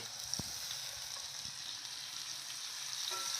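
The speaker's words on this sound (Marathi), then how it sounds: "आता आपला कांदा मऊ झालेला आहे त्यानंतर टाकूया आपण टमाटे" Softened onions fry in a pan with a steady, faint sizzle, broken by a light knock or two as tomatoes go in.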